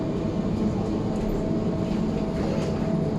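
A Riyadh Metro train sits at a station platform with a steady low rumble and hum. The sound is continuous and moderately loud throughout, with no clear speech over it.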